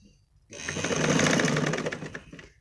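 Sewing machine stitching a folded hem, starting after a short quiet moment and running in one continuous motorized whirring burst of about two seconds before winding down, close up with no talk.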